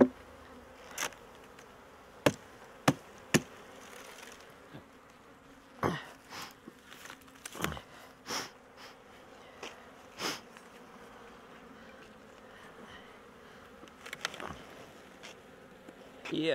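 Honey bees buzz around an open hive, with a steady low hum broken by several loud, brief passes as single bees fly close by the microphone. No one speaks.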